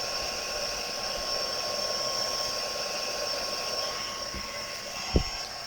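A heat gun warms embossing powder on a greeting card, a steady breathy fan-and-heater roar running continuously at close range, with a brief knock near the end.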